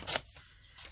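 Paper torn by hand for a collage, two quick rasping rips, one at the start and another near the end, with a quiet pause between and no voices.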